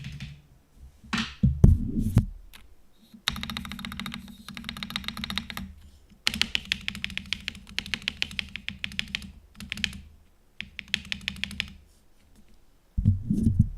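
Typing on a computer keyboard with a clean-sounding spacebar, heard as close, crisp bursts of rapid key clicks separated by short pauses, with the spacebar's heavier thock standing out.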